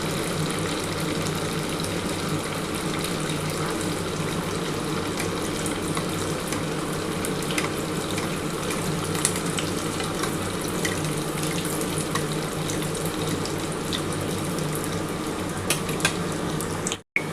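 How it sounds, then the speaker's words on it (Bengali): A single large soybean and potato cutlet fries in oil over low gas heat, giving a constant, dense sizzling hiss that runs unbroken until a sudden cut at the end. "একটা একটা করে ভাজছি।"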